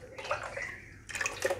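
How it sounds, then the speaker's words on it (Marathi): Water poured into a cooking pot on a gas stove for boiling potato wafers, a close, continuous splashing pour that breaks into a brighter gush of trickles near the end. "त्यात आता आपण पाणी टाकून घेऊया।"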